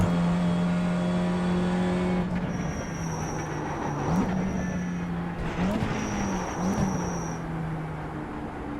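A BMW M2 race car in the iRacing sim sounds a sustained engine drone that drops in pitch as it shifts, then surges and dips through several quick throttle blips and gear changes, loud and close throughout.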